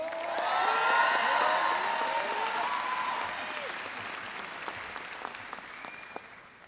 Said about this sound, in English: please give some applause to all the airmen and soldiers up here